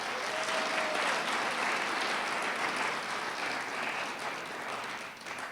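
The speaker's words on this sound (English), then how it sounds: "How about another round of applause for Mayor Berry?" Audience applause at a City of Albuquerque news conference celebrating Mayor Richard J. Berry, a steady, fairly distant wash of clapping from a crowd with no talking over it.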